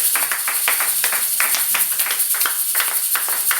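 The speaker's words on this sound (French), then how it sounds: "On acclame pour sa parole" A church congregation applauds in steady rhythmic claps, a dense run of sharp hand strikes that keeps an even beat throughout.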